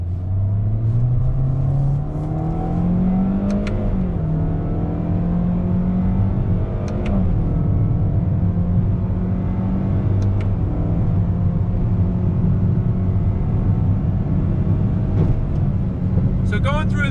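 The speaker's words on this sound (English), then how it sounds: "Let's do another acceleration test from this stop sign" A 2021 Toyota Corolla Hatchback accelerates from a stop sign, its engine note rising steadily through the gears from inside the cabin, then settling into a sustained drone with a few faint clicks.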